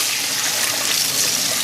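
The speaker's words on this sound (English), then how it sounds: "when you drain it, cold tap" Cold tap water running hard over kidney beans being rinsed and drained, a loud, steady hissing splash close by with no pauses.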